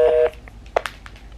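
Telephone dialing tones as a restaurant is called back, a short loud tone burst followed by a few quick, fainter keypad beeps.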